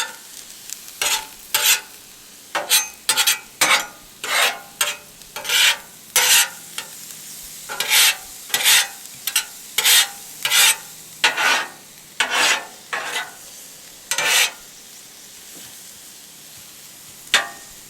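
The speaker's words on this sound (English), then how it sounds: "I like to spread them out a little bit, stir them, and then spread them out a little bit more." Vegetables sizzle in a pan over a camp stove during camp breakfast cooking, with a steady fry broken by repeated bursts of scraping and stirring at close range, and no one talking.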